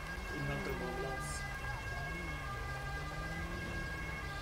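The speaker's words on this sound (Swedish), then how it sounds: "Inväntar på ambulans." An ambulance siren wails in the GTA video game during a police roleplay scene, a rising and falling tone heard at a distance through steady rain, with speech mixed in underneath.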